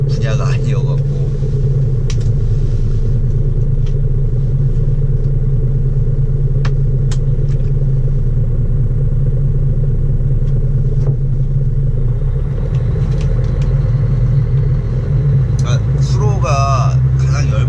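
A dump truck's diesel engine rumbles loud and steady at close range, a constant low drone with occasional faint clicks and knocks, and no clear speech over it.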